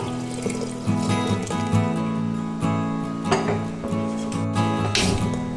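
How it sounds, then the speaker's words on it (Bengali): Hot water poured into a pot of soaked rice and lentils for Bengali khichdi, a steady close splashing and gurgling stream running throughout with a low hum underneath, no talking. "এর মধ্যে দিয়ে দিচ্ছি গরম জল পরিমাণ মতো"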